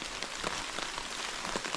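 Rain falls on a forest trail along the Sheltowee Trace, a soft steady patter broken by scattered sharper drips from nearby. It is quiet and heard alone, with no talking.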